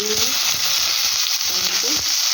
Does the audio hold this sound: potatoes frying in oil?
yes